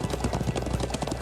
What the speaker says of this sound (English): Glad I still remember how to ride a horse.